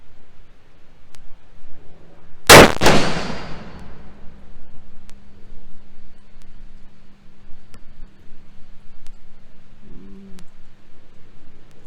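One sharp, loud rifle shot from a Savage 110E chambered in .270 Win cracks outdoors and rings out with a trailing echo, followed by quiet ambient noise.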